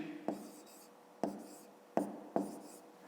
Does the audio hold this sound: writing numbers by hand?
yes